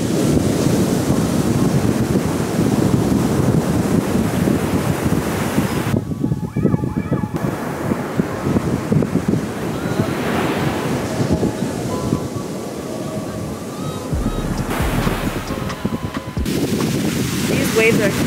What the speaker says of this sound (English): These waves are.